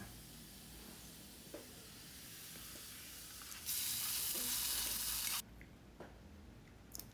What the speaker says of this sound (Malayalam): ഇനിയിപ്പോൾ വെളിച്ചെണ്ണയിൽ ചെറിയ ഉള്ളി അത് വഴറ്റി ചേർക്കാം.